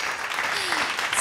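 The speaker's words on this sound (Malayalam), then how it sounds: "ഒരു കൈയടി കൊടുക്കൂ" Studio audience on a Malayalam TV singing reality show breaks into clapping, a short dense burst of applause heard close up.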